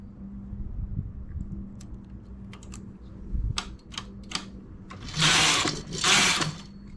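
A machine-knitting carriage being pushed across the needle bed while working overlapping cable-stitch rows, giving a few scattered clicks and then two loud, close rattling sweeps, each lasting about a second, with a low hum beneath.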